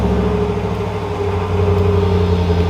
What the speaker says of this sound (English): But we also have to talk about the sound of the truck.